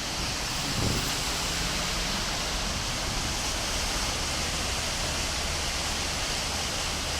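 Heavy rain and rushing floodwater fill a street in Goiânia, Brazil, as a dense, loud, unbroken roar that holds steady from start to finish.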